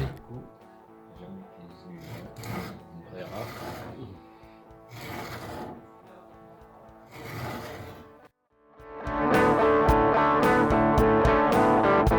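Hand tools shaping the back of a Telecaster guitar neck, first a coarse wood rasp for roughing then a metal file for refining: rhythmic scraping strokes in repeated bursts, growing louder and denser near the end, with background music.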